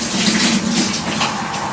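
A home shower runs continuously, a steady, loud hiss of falling water with a faint low hum under it, close by and unbroken.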